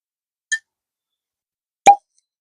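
A real cork pulled from a sealed bottle of Charles E. Ballard corn whiskey gives two short, close pops, a faint one followed by a louder, fuller one a little over a second later, with silence around them.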